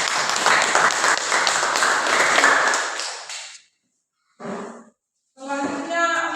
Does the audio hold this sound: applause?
yes